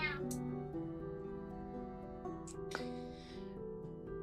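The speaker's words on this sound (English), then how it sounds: "My cat is crazy" A house cat meows near the microphone, with a couple of drawn-out cries over a steady tonal background.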